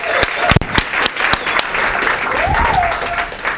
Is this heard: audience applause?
yes